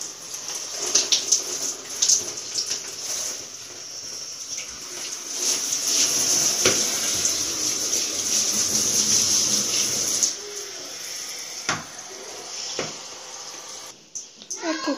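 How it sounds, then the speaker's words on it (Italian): Water from a handheld sprayer rinses cleaner off a shower, steady and close for about fifteen seconds, with splashes and knocks against the surfaces and a brief pause near the end. "Io lo spruzzo per bene e ora sciacquiamo tutto."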